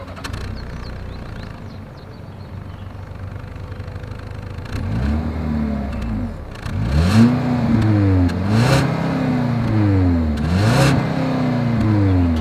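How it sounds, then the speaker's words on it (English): A 2020 Ford Edge in non-ST trim idles with a low exhaust rumble before being revved repeatedly, each blip rising and falling in pitch, growing louder and throatier toward the end, with no talking. "As always, here is that exhaust clip."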